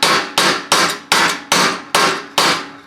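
Seven sharp, evenly spaced hammer taps on a sheet metal stone guard laid over plywood, each a bright metallic strike with a short ringing decay, close and loud with no talking.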